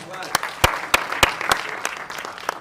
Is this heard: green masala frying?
no